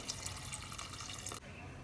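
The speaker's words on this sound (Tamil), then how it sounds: "இப்போ இதுக்கு தேவையான அளவு தண்ணி சேர்த்துக்கிறேன்" Water is poured into a pot of rice and lentils for one-pot sambar rice, making a steady close splashing stream that cuts off abruptly before the end.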